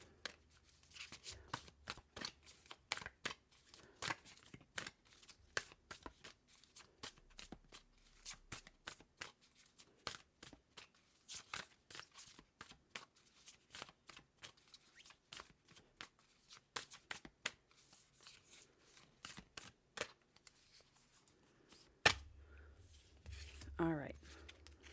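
Oracle cards being shuffled by hand, a long run of quick crisp riffling flicks and papery slides close up, with a brief voice near the end.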